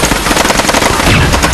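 Rapid machine-gun fire from a dubbed action film, Mercenary, rattles as a loud, dense burst of shots through the whole short moment, with no voices.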